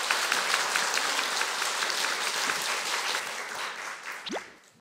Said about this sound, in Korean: 여러분 박수로 청해 보겠습니다.